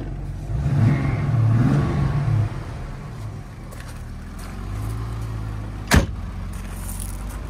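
A 1963 Mercedes 220 SE Coupé idles cold on its choke, a steady mid-range engine rumble with a slightly louder stretch early on and a sharp click near the end.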